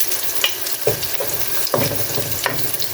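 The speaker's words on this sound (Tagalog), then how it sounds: "Sasapatsa lang tayo." Onion sautéing in a pan for chicken kaldereta, a close, loud crackling sizzle with several quick stirring scrapes over three seconds, no speech.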